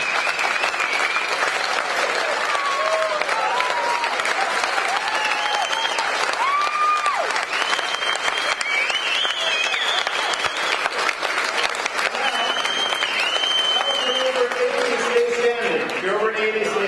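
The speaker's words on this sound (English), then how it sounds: "let's give them a round of applause." A banquet audience applauds at a dinner event at Caesars, steady sustained clapping filling the room with a crowd murmur and a voice over a loudspeaker running beneath it.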